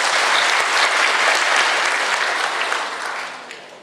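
A hall audience applauds to welcome a professor speaking at an agricultural event at a temple, dense clapping from many people that holds loud, then gradually fades toward the end, with no talk over it.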